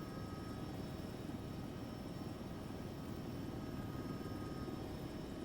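Helicopter rotor and engine drone from an ArmA 3 helicopter coming in to land, a steady, loud, dense roar with a faint whine, holding evenly throughout with no voices.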